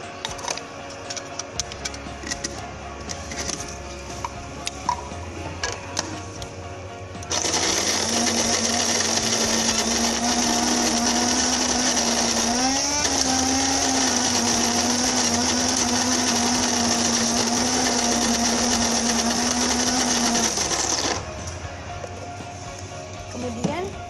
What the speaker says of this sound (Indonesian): kita grinder dulu kopinya